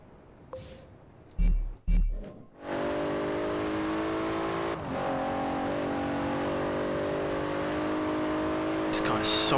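A race car in Forza Horizon 2 on Xbox One roars up through its gears after a few sharp bursts, the engine note climbing loud and sustained with rising revs.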